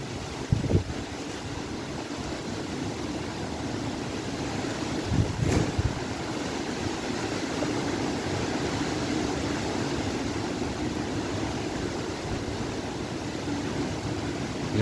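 Steady wind gusts roar through a street in Torreón, Coahuila, during a dust storm with light rain, a continuous broadband rush with a couple of brief louder bumps and no talking.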